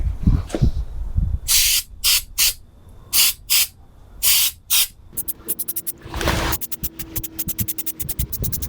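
Spray-on abrasion and impact resistant coating is applied to a 1/10 scale custom RC crawler body in a string of close, loud aerosol hisses. A few long bursts come first, then many quick short sprays in rapid rhythm.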